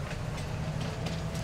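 A train in the video game Farming Simulator 19 rumbles steadily with a low, continuous drone and faint rhythmic rail clatter, moderately loud and uninterrupted, with no talking.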